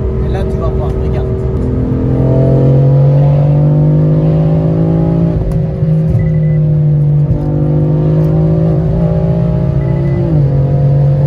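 An 850 hp BMW M4 pulls hard in fourth and fifth gear, its engine drone rising steadily and loud with brief dips at the shifts, with people talking over it from inside the car.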